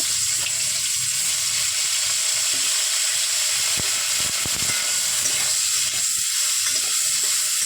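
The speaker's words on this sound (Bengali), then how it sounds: "একটু ভাজা করে নিই। কপিটা ভাজা আমার হয়ে এসছে।" Cauliflower fries in hot oil with a loud, steady sizzle and hiss. The sound runs unbroken the whole time, with a few soft knocks and stirring scrapes in the middle.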